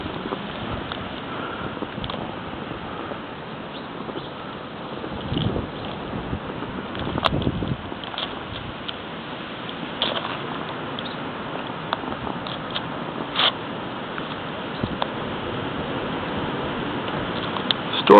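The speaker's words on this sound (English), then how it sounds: "The winds have been picking up" Blizzard winds blow steadily outdoors during a winter storm coming off the ocean, giving a continuous rushing roar with gusts that buffet the microphone now and then, with no talking.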